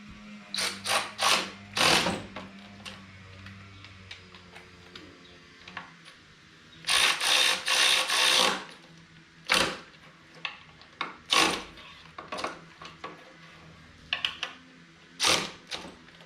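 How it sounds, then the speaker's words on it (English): A hand wrench tightens fork clamp bolts on a Yamaha Vmax front end, producing short separate bursts of close, crisp ratcheting clicks spaced irregularly, with quiet between them. "Tighten them down as tight as I can get them, and then I'll go back over them with the wrench here in a second."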